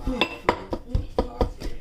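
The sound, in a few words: mixing fufu in a pot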